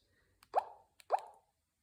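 Nokia 105 4G (2nd Edition, 2024) feature phone alert, two quick cartoonish bubbly plop tones with rising pitch sweeps, each preceded by a faint click, close and alone.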